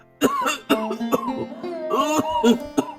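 An old man's strained, hacking coughs come in a rapid run of rough, voiced bursts, close to the listener and fairly loud.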